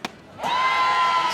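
Spectators at an all-star high school baseball game let out a sudden collective swelling "ooh" after a big swing, rising quickly and holding as a sustained crowd murmur.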